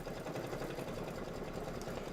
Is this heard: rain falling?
no